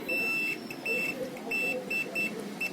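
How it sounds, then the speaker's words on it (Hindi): A multimeter's continuity buzzer beeps on a shorted transistor while a UPS module with 6+6 MOSFETs is repaired, giving about seven short, shrill beeps in an irregular rhythm over faint background murmur. "या बजर पे करके देख ले। ये आवाज आपको आ रही है हल्की सी"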